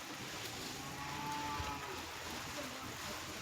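A Jersey calf lows in a farmyard at Idikarai near Coimbatore, a faint, drawn-out moo sitting low within steady background noise, heard at a distance with no voices.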